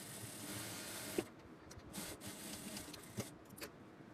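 A sewing machine stitches pant fabric in a steady, close mechanical whir, with a few sharper clicks and knocks as the cloth is handled.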